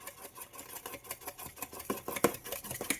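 Spoon clinking and scraping against a bowl while stirring water into ketchup sauce, a quick close series of light taps and swishes, no talk.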